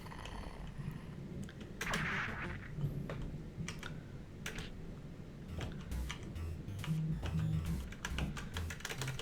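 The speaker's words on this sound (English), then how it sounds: "you're gonna hear the sound of me mashing on my keyboard quite a bit" Fast, irregular clatter of keys being mashed on a computer keyboard while playing a punch-out style knight fighting game, soft taps and clicks scattered over a steady low background hum, with no talking.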